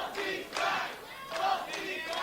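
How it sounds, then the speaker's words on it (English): A wrestling event crowd roars and cheers in rising and falling swells, a loud, continuous arena noise with no clear single voice. "Look at the crowd showing the respect."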